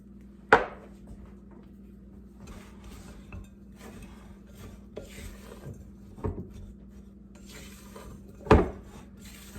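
Quiche ingredients with black pepper are mixed in a bowl, giving soft scraping and rubbing strokes with a few sharper knocks of the utensil against the side, close by under a low steady hum.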